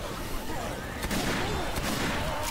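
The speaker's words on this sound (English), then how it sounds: "I've got fire bullets." Incendiary rounds fired in Left 4 Dead on Expert Realism, a brief burst of gunfire standing out over a busy game background, with loud cracks near the middle and end of the short stretch.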